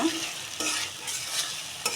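Potatoes and pointed gourd stir-fried in spices in a pan, with a steady close sizzle and repeated scraping strokes of a spatula, no voices.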